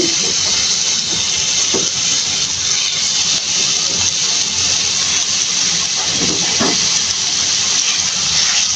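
Chicken pieces frying in hot soybean oil in a pan on high heat, a steady loud hiss and crackle that runs unbroken through the whole stretch with no voices over it.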